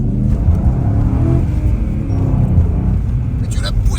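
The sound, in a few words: car engine revving, sounding like an Audi RS4 B7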